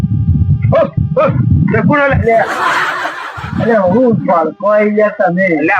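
A voice imitates a rabid dog's barking in a Gujarati comedy skit, giving a few gruff woofs mixed in with loud, continuous talking and some chuckling.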